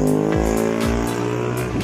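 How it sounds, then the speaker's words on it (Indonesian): A Volvo B11R-engined double decker coach idles with a steady low diesel rumble while maneuvering to reverse into a parking spot at a bus terminal, with a few brief pitch sweeps as the engine note shifts. "Ini jet bus 3 double decker bermesin Volvo B11R untuk tujuan ke Jember teman-teman armadanya, dan persiapan mau diparkir mundur terlebih dahulu."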